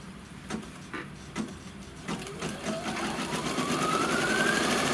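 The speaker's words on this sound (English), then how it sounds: "So it's just going to stitch all these little X's and O's, just a straight stitch." An embroidery machine straight-stitches rows of small X's and O's, a close mechanical clatter of rapid needle strokes that builds into a continuous whirring run with a rising motor whine.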